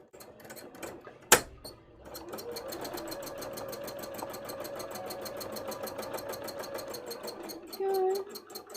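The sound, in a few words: embroidery machine stitching a cosplay dress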